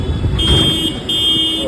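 A Kolkata tram's bell rings out in two sustained, high-pitched bursts over steady street and traffic noise.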